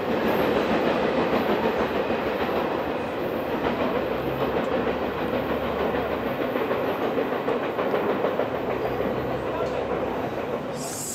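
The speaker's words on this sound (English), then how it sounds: "Single engine hauling an all FedEx trailer train" A single-engine freight train hauling all FedEx trailers rolls steadily past at Fullerton, a loud continuous rumble of rail wagons with rhythmic clatter and hiss throughout, close by.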